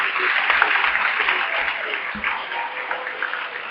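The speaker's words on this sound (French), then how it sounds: "Tout le monde qui va applaudissez." A church congregation applauding during a Sunday service, a continuous wash of clapping heard as a steady crowd roar, with a few faint low thumps underneath.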